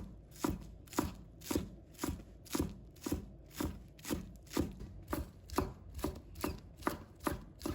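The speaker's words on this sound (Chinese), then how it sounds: "再准备一把小葱，把它切成葱花，" A knife chops green onions into small scallion pieces on a cutting board, making about a dozen evenly spaced, crisp knocks in a steady rhythm, close up and with no talking.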